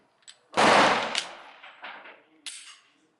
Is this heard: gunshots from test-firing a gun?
yes